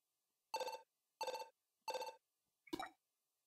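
Chiptune-like phone ringing in a retro pixel video game: three identical buzzy rings at steady intervals, then a slightly different fourth burst, isolated against silence.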